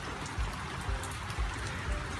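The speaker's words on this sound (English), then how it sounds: "and it's bucketing with rain." Heavy summer downpour in Perth, Western Australia, a dense steady hiss of rain with periodic low thumps, loud and continuous with no voices.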